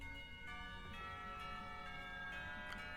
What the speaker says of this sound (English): The school bell rings out,